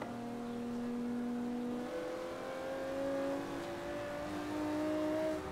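A BMW M4 engine in Forza Horizon 3 revving and pulling hard through gears, its steady tone climbing in pitch, dropping, then climbing again, loud and close before easing off at the end.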